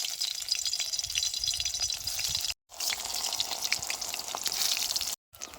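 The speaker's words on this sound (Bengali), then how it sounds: "কড়াই তেল ভালো মতো গরম হয়ে গেছে এবার বেসন দিয়ে মাহায় রাহা বেগুনগুলো দিয়ে দেবো" Gram-flour battered eggplant slices fry in hot oil in a wok, giving a steady crackling sizzle with small popping bubbles, close and clear, with no voices.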